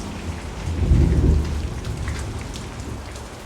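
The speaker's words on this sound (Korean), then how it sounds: "천둥 번개 막치네." A winter thunderstorm with heavy rain: thunder rolls up loudly and swells for about a second, then eases into a steady hiss of downpour with no voices.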